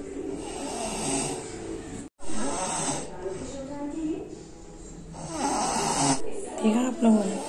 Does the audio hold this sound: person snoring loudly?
yes